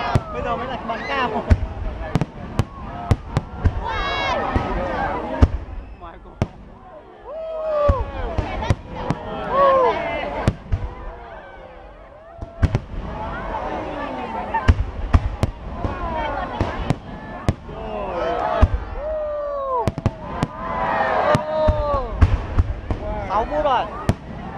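Fireworks fired high over a lakeside display, a dense run of loud bangs and crackling bursts with whistling rises, continuous throughout amid crowd voices.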